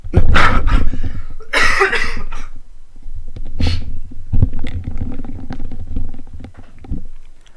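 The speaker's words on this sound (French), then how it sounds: "Une bien sale toux." A nasty cough comes in rough, loud bursts near the start and again later, with wet, rumbling throat sounds in between.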